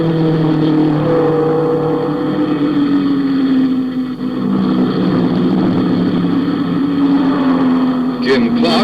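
1963 Grand Prix racing cars roar past in a continuous loud engine drone, one car misfiring on only seven cylinders, the pitch sliding slowly downward as it passes, with a brief higher burst near the end.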